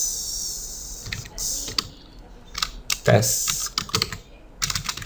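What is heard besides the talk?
typing on a computer keyboard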